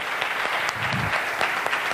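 Audience applause for a mentor at a Gujarat business success event, dense steady clapping filling the whole moment at a fairly close, even level with no talk over it.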